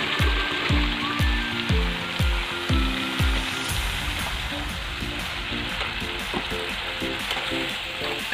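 Whole ground cumin hits a hot pan already holding garlic, onion and ginger, giving a steady close sizzle and frying hiss with several rhythmic scraping stirs in the first few seconds.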